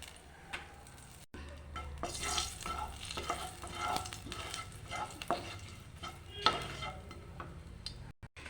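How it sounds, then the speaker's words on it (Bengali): Whole dried chillies, bay leaves and black cumin hit hot oil in a pan, giving a quiet, steady sizzle broken by sharp spoon scrapes and stirring clatters. "এবারে গোটা শুকনো লঙ্কা, তেজপাতা আর কালো জিরে দিয়ে দিচ্ছি।"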